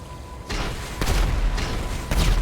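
Rocket explosions slam into a Kosatka submarine in GTA Online, three or four loud, booming blasts landing roughly half a second apart over steady rumbling noise.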